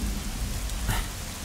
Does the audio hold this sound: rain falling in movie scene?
yes